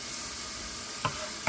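Onions frying in a pan alongside liver, a steady soft sizzle and hiss with two light knocks near the end and no talking.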